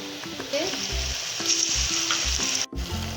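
Onions sauté in a pan for an egg masala bread snack, producing a continuous close sizzle with repeated low stirring knocks and scrapes of a utensil, no talking.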